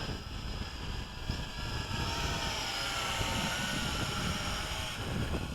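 A JJRC H16 Tarantula X6 hexacopter drone carrying a RunCam HD camera flies nearby in the wind, giving a steady, dense whirring buzz of its rotors that holds at an even level throughout.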